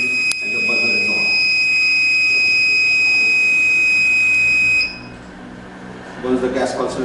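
A gas sensor's piercing, high-pitched electronic buzzer alarm sounds continuously for about five seconds, then cuts off, leaving faint background noise and a few soft clicks.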